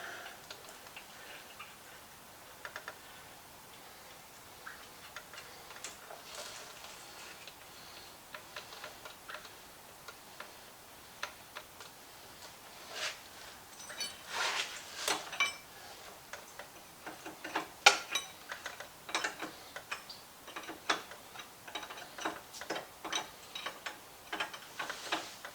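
A hand ratchet clicks in quick, uneven bursts while tightening a nut on the front axle of a 2008 Chevy, close but fairly quiet, with steadier runs of ticking in the second half and no talking.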